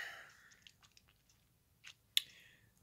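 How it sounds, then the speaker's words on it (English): Close, quiet chewing of popcorn: soft, wet mouth sounds and small crunches scattered irregularly, then one sharper crunch late on, with no voices. "I'm still chewing on some popcorn here."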